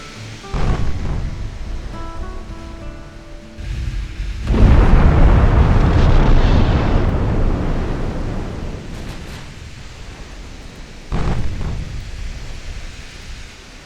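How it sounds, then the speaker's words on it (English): Naval gunfire and shell impacts from the Ultimate Admiral Dreadnoughts warship battle game: a loud, deep boom at about 4.5 seconds rolls out into a long rumble, with smaller blasts before it and another thud near 11 seconds. "We finally score a decent hit with one of my guns on an enemy battleship"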